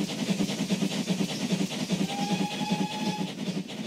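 Steam engines roll in hauling a milk train, a steady rhythmic chuff and clank of wheels over rails with a thin whistle sounding partway through, close and continuous.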